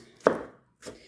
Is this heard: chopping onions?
yes